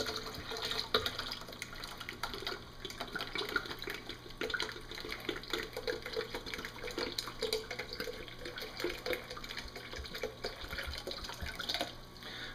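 Steady running and splashing of spring water pouring into raw grape juice, continuous and close, with no voices.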